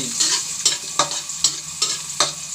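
Garlic sautés in a hot pan with a steady sizzle, cut by six rhythmic stirring scrapes roughly every half second, close and fairly loud, no talking.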